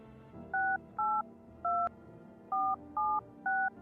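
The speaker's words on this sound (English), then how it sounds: "Should we make some phone calls quick?" A run of six crisp dual-tone keypad beeps, each held briefly with short gaps, as a number is punched into an old-fashioned telephone in a video game, heard alone over a faint steady background hum.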